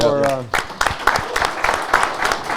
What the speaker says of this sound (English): Yeah, but a big applause, man.